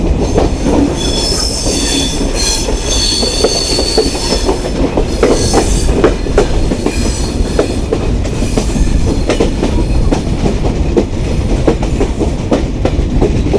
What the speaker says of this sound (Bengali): আন্তনগর কপোতাক্ষ এক্সপ্রেস প্রবেশ করল দর্শনা হল্ট রেলওয়ে স্টেশনে